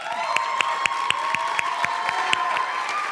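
A school audience at Chicago Vocational Career Academy cheers a student team after its presentation. Sharp claps land on a steady rhythmic beat while sustained voices cheer and whoop beneath them throughout.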